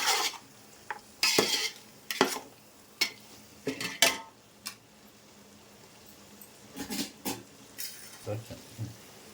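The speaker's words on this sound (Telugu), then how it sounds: "ఇలా మొత్తం అంతా ఎగ్స్కు బాగా కలుపుకుందామండి." A spoon stirs an egg mixture into masala in a pan while cooking egg pulao, with irregular scraping clinks and knocks against the pan and a faint sizzle underneath.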